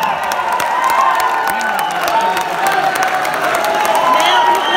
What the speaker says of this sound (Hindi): भरपूर तालियों में इस्तकबाल कीजिएगा जनाब अली ज़यून